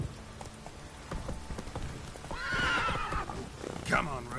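Roach, a horse in The Witcher 3, whinnies twice in the rain, a rising neigh midway and a shorter cry near the end, over pattering raindrops, hoof clip-clop and a voice.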